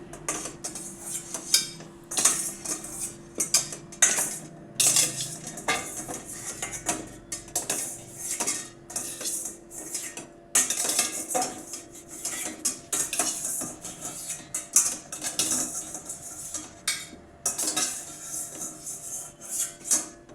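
Cooked amla murabba is moved onto a plate with utensils, bringing repeated close metallic clinks and scrapes of spoon against pot and plate in irregular bursts, with no talk.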